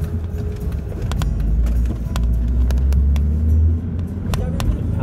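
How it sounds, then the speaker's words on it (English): A car drives along the road, heard as a low, steady rumble from inside with occasional knocks, while people talk over it. "Driving a new car."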